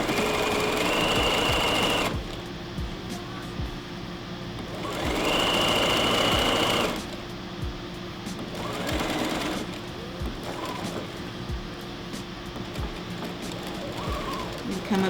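Sewing machine stitching a fabric PPE face mask in bursts, a close, loud whirring run, a pause, then another run, with quieter stretches and someone talking between.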